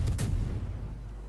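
Warship gun salvo in World of Warships: a single heavy boom with a sharp attack, then a long low rumbling decay, loud and close, with no talk.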